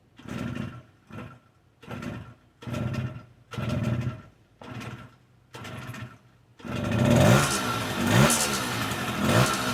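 A 1974 Honda MR50 small motorcycle being kicked over: a series of rhythmic chugging pulses from the kick-start, then the engine catches and runs continuously, loud and close.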